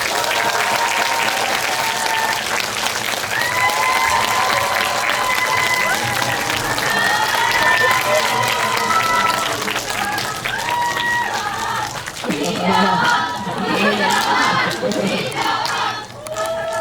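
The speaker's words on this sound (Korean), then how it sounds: "자, 박수 주시죠." At a live talk event for the film The Man Standing Next, an audience loudly and continuously applauds and cheers as director Woo Min-ho and actors Lee Byung-hun, Lee Sung-min and Kwak Do-won come out, with voices over the clapping.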